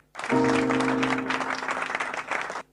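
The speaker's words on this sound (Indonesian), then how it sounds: "Berikan tepuk tangan yang meriah buat Tuhan" Applause for God breaks out during a children's online worship service. It is a loud, sustained burst of clapping from a group, with a steady tone and cheering underneath, that runs for about two seconds and then stops abruptly.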